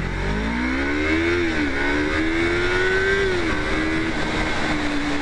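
A Yamaha MT03 motorcycle engine pulls hard through rising revs, dipping briefly at gear changes before climbing again, loud and close with steady wind noise, no voices.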